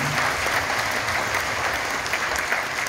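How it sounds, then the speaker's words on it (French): Steady applause from an audience in a Cannes 2023 cinema hall during a tribute to Godard, a dense, continuous wash of clapping held at an even level for the whole stretch with no voices. "Merci beaucoup d'applaudir."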